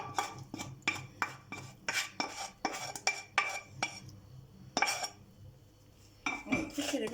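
A utensil clinks and scrapes on a plate in a steady rhythm as fried minced beef is tossed with parsley, close and distinct with brief pauses between strokes.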